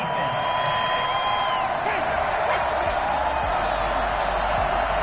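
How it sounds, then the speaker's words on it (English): A football stadium crowd roars in angry disapproval after a penalty flag at a GFL game between the Aftershocks and the Cowboys: a steady, loud wash of booing and shouting that holds throughout. "Well, the crowd doesn't like that."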